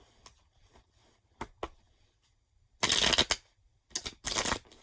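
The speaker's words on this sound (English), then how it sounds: "1 more shuffle" Tarot cards shuffled by hand in several bursts, a few light taps and riffles followed by two louder, longer shuffling runs separated by short pauses, close and clear with no talking.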